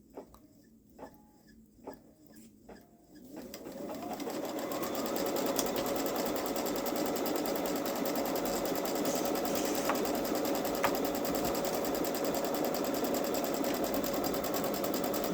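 A Babylock Solaris embroidery machine stitching a batting placement line starts up after a few light clicks and then runs in a steady, continuous close hum.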